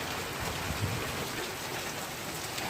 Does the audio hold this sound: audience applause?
no